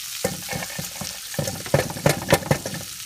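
Onions hit hot oil in a well-used pot and sizzle steadily, with a run of sharp crackles and pops building toward the end, close and moderately loud with no talking.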